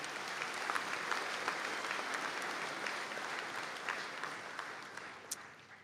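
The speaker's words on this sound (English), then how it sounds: "And if we could give them all a round of applause," Audience at a conferring ceremony in Donegal applauding graduates, dense sustained clapping from a large crowd at even loudness, fading slightly toward the end with a few sharp individual claps standing out.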